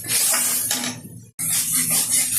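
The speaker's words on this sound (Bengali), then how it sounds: "আবার একটু নেড়ে চেড়ে নেব।" Poppy seed paste with turmeric and salt stirred in a pan for a prawn and ivy gourd potato curry, a steady scraping and sizzling hiss with light metallic clinks, broken by a brief silent gap.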